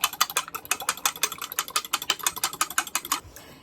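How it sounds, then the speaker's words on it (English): Eggs with black pepper for a tortilla española are whisked briskly in a bowl, producing rapid, evenly spaced clicking strokes close up for about three seconds before stopping. "we're going to put extra black pepper. Extra. And then just whisk it all up."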